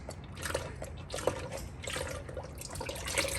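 Engine oil drains from the oil pan of a 2.0T car, pieces of belt in it, in a steady trickling, dripping liquid stream heard close up throughout.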